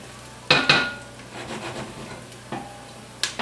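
Garlic stirred in a cooking pot for a red sauce, a few sharp scraping clatters of a utensil against the pot over a faint sizzle, the loudest strokes near the start and end.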